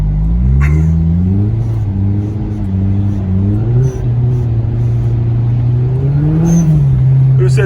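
Turbocharged 2.0T engine of a 2011 Hyundai Genesis Coupe, rear-wheel drive, revving hard while drifting in snow, loud and close, with engine pitch rising and falling in repeated surges and a few brief clicks over the drone.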